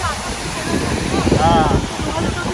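Muddy water from recent rain pours over a hidden waterfall, making a steady, close rushing roar with brief talk over it.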